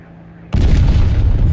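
Aircraft gunfire in War Thunder, a loud sudden burst that cuts in abruptly and keeps hammering steadily near and heavy after a quiet moment.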